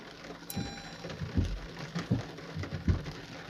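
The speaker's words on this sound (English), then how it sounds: "And already we have the auto wipers on because it's raining." Rain falls on a Citroen C5X as it drives, a soft steady patter over low road rumble with occasional heavier thumps from drops or bumps.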